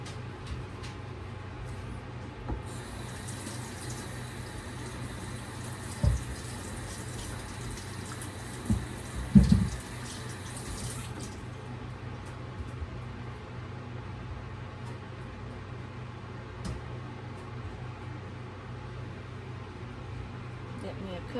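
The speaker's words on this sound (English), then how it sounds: "we're going to wash up our tomatoes." Tap water running steadily for several seconds while tomatoes are washed in a home kitchen, a faint hiss over a low hum, with a few clunks and a voice talking.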